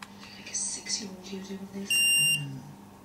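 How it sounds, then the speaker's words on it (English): A Contour Roam2 action camera, connected to an Android device by an on-the-go cable, gives one loud, steady electronic beep lasting about half a second, clearly louder than the quiet room sounds and murmured talk around it. "You'll hear the beep"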